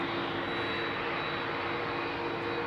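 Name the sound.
Boeing 767 with CF6 jet engines departing Heathrow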